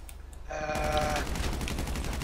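Gunfire erupts in GTA Online during a heist setup mission, a dense burst of shots that starts about halfway in and rattles on loudly to the end, with no talking.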